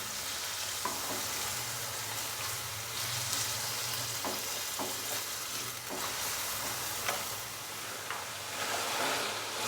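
Chicken sizzles steadily in a pan with ginger and garlic paste for a chicken pulao, a constant close frying hiss broken by occasional stirring scrapes.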